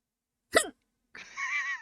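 A single sharp hiccup from a drunk young woman, close and abrupt, followed a moment later by a short, breathy vocal sound.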